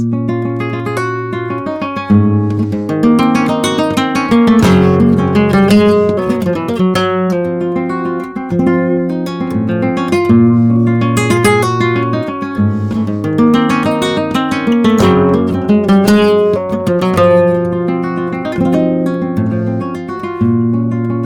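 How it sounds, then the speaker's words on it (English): Flamenco guitar plays a granaina, with rich plucked chords, ringing arpeggios and expressive runs, loud and close, with no voices. "he started putting out a granaina, for example, that sounds like this"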